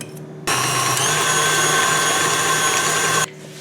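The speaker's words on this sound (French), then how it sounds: "Il faut fouetter environ 5 à 10 minutes." Electric whisk whirring steadily as it beats a chocolate tiramisu mixture, a constant close motor whine that starts abruptly and stops cleanly after about three seconds, with nothing else heard.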